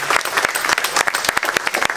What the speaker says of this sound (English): Please clap it up for them for having us.